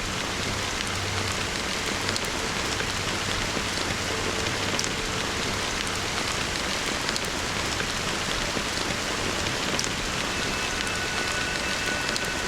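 Steady rain pours down in a dense, even hiss that holds unbroken throughout, close and enveloping, with scattered drops tapping on surfaces and no voices.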